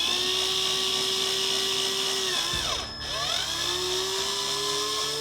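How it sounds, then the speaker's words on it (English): A power drill bores a hole through the center of a plastic cap for a homemade catfish jug, a steady close whine with a brief dip in pitch as the bit pushes through. "So we're gonna drill a hole down through the center."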